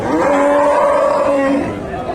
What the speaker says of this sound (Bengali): এখানে একটা গাভী দেখেন ফ্রিজিয়ান জাতের গাভী